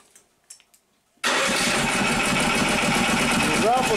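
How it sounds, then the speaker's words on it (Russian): A Lifan KP460 engine fitted with a PZ30 carburetor starts after a few quiet clicks and a brief near-silence, then catches abruptly into a loud, steady running roar that holds to the end. "посмотрим, как на нем уже заработает мотор"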